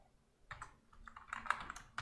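Computer keyboard keys being typed while entering code, a quick irregular run of soft clicks starting after a brief pause, close and fairly quiet with no voices.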